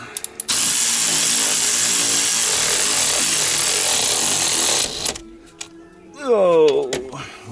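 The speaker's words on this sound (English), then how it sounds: "works like a ratchet till it don't" A power ratchet works on a 2008 Ford F-250 Super Duty during a hydroboost replacement, whirring in one loud sustained burst and then stopping, followed by brief clicks and someone talking.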